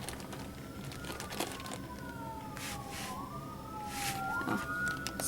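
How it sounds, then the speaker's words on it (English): A distant siren wails, rising and falling in long sweeps over a low background hum, faint and steady with no voices. "Oh, sirens."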